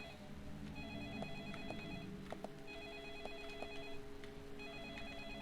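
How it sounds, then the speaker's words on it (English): A telephone rings in Deadly Premonition, an electronic trilling ring repeating in short bursts over a low, murky background hum, with no one talking. "Pick up the phone."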